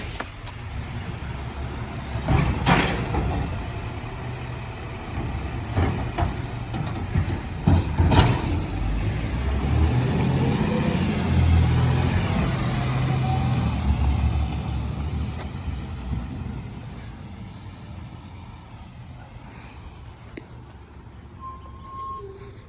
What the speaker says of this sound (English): I've never seen that garbage truck clean up trash like that.